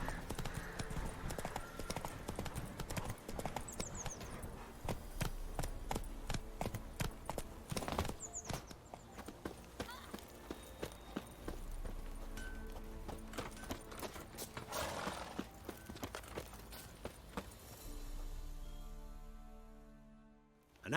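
Horse hooves galloping in The Witcher 3, a steady rapid clip-clop rhythm running for about twenty seconds with brief whinny-like bursts, loud and close, under a faint music bed.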